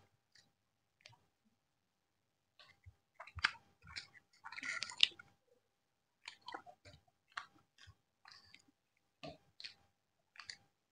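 Close, wet chewing of a Chicken 555 dish during a timed eating challenge in a Telugu village, irregular bursts of bites and mastication separated by near-silent gaps, with a louder crunchy spell in the middle.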